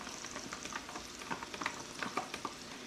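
Chopped onion frying with meat in a pan for a budget dinner, a faint, low sizzle dotted with small pops and spatters, heard up close with no talking.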